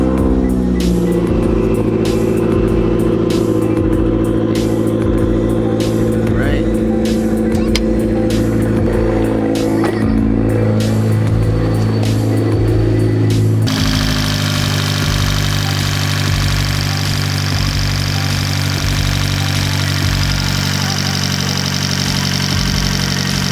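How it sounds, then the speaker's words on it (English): A car fitted with a Forge turbo actuator is started cold and settles into a steady, loud idle, with a low, even engine note and a noticeable change in tone partway through. "let me go ahead and turn on the car. I'll give you guys a little cold start."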